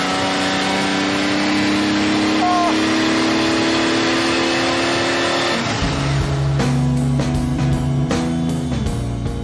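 A Lamborghini Miura's engine roars loudly, holding a steady high note before dropping and then revving up again in repeated sharp blips, close and unmasked.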